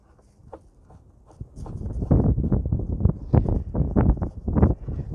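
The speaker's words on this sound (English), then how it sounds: "Apologize for the wind." Gusty wind buffeting a microphone outdoors while a 2016–2019 Honda Pilot battery is replaced, starting quiet and then rising into loud, irregular low rumbling bursts.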